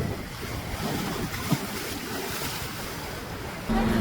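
Sea waves at a hilltop beach resort make a steady, broad wash of surf with wind noise over the microphone. It stays moderately loud throughout, and a faint voice is barely present.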